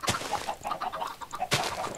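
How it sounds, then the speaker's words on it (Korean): A chicken in Minecraft clucking as it is hit and killed, two short squawks at the start and near the end with brief clucks between, fairly close and alone. "누가 닭 죽이는 소리였어?"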